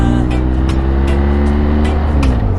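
A vehicle engine idles steadily and loud, with a continuous low rumble and faint harmonic whine that holds without pause, ready before an early-morning ride.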